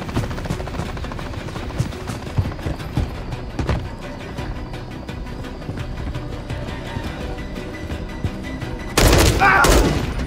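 Rapid bursts of automatic gunfire crackle through a Call of Duty: Modern Warfare 3 firefight, dense and sustained with sharp single shots between, under a low rumble, ending in a loud harsh blast near the end.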